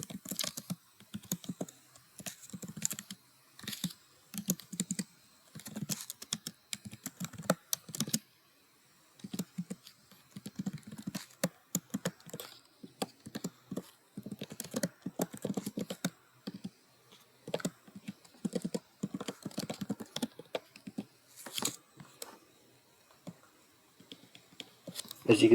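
Someone types a C hello world program on a computer keyboard, producing irregular bursts of close, crisp key clicks with short pauses between runs, and occasional speech mixed in.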